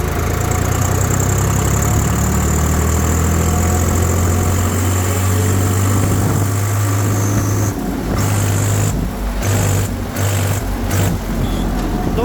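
A Swaraj 4WD tractor with a 3478 cc engine, in top gear, is held at high RPM in a loud, steady low drone that turns choppy and stuttering near the end.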